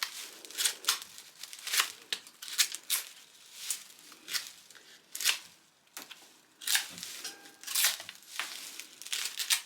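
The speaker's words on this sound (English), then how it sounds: "I need my X-Acto, and I'm going to cut away from me." X-Acto knife slicing through braided broom straw on a two-tone witch broom, a run of close, dry crisp snips and crackling cuts in irregular bursts, with no talking.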